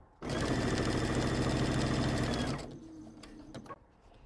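A sewing machine running a quarter-inch seam, a loud fast steady mechanical whir of stitching for about two seconds that then stops, leaving faint clicks and handling noise.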